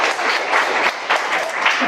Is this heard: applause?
yes